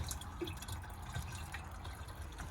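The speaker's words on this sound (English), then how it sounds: "basically it's just a case of entering water into that area there" Water from a roughly 10-litre canister pours steadily into the fresh water tank of a 2022 Swift Fairway Classic caravan outdoors, a faint continuous trickle and drip with no voices.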